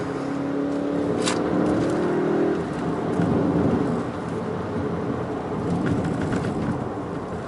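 A Volkswagen Golf GTI Mk8 revs up and pulls away hard, its rising roar mixed with road and wind noise, fairly close, with no talking.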